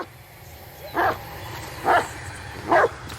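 Bullet the dog in the video game The Blair Witch gives three spaced, mid-loud barks or yips over a steady low ambient background.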